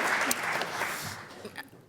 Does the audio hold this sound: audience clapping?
yes